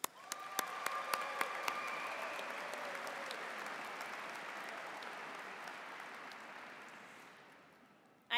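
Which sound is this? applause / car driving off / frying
applause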